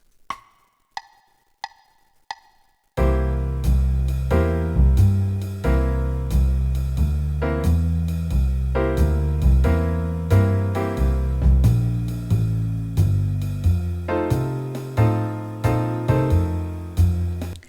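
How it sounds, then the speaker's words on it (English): A few soft ticks count in, then a medium-tempo jazz swing chord progression plays back steadily from iReal Pro at 90 beats per minute, with bass and comping chords under a walking pulse. "It plays back this jazz swing chord progression."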